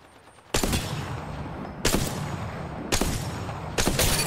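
Gunfire in the video game Apex Legends, four sharp bursts of rapid shots in an uneven rhythm, each striking loudly and ringing out, with no talk over them.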